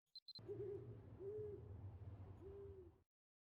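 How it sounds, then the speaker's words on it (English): An owl in the video game Mabinogi gives three drawn-out hoots in a dark ravine, low and soft with an echoing, distant feel over a quiet ambient bed, after two brief high chimes. "You hear a hoot of the owl echoing from somewhere."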